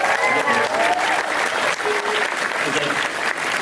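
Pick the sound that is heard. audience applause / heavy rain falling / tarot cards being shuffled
audience applause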